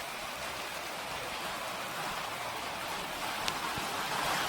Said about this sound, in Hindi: इधर ही नागार्जुन के आसपास बारिश हो रही है और बहुत ही बारिश हो रही है